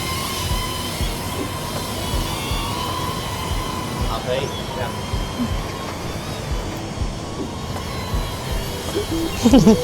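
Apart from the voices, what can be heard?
DJI drone flying nearby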